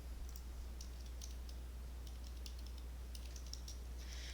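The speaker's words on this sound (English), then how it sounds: "let us type that into a calculator" Numbers are tapped into a calculator in a steady run of light, quick key clicks over a low constant hum, faint and close with no talking.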